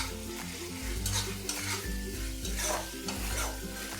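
Paneer butter masala being stirred in a pan with kasuri methi added at the end, a close, quiet, repeated scraping and stirring over a soft bubbling sizzle, with light clinks of the utensil against the pan.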